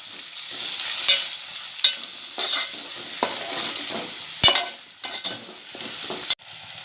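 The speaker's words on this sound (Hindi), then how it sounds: "अब हम इसमें बारीक कटा हुआ टमाटर डालेंगे, और इसे भी नरम होने तक पकाएंगे" Chopped tomato is added to softened onion and fries in a pan for drumstick masala: a close, continuous sizzle with repeated scraping strokes of a spoon stirring, ending in a sharp clank.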